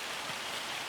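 Steady rain falls across a farm in Farming Simulator, an even, close hiss of rainfall soaking the ground and hay bales, alone with no voices.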